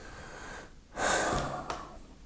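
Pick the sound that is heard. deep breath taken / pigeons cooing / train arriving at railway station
deep breath taken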